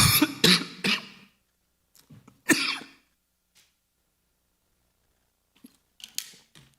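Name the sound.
coughing in church congregation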